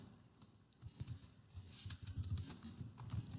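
Typing a sentence on a computer keyboard: a run of light, uneven key clicks and taps that grows slightly busier toward the end, close and fairly quiet, with no talking.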